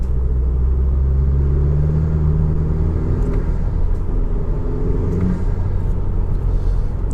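A Honda Civic Type R FK2 pulls at full throttle in fifth gear on a winter drive, its engine a loud, constant droning rumble heard from inside the cabin, with the tone slowly climbing as it accelerates.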